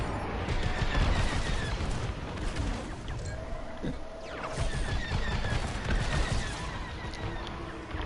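Rapid laser cannon fire from a starfighter in Star Wars Squadrons, a dense, sustained volley of bursts running throughout over engine roar and combat noise, fairly loud and continuous.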